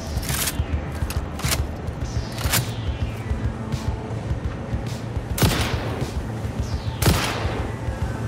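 Rifle gunfire in the video game Satisfactory: several sharp single shots, spaced irregularly, ring out over a steady low mechanical hum, with no talking.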